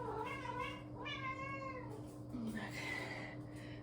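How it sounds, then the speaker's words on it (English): A pet cat meows repeatedly for a treat indoors, several drawn-out rising and falling cries close to the listener over a steady low hum, with no talking. "And my cat's meowing"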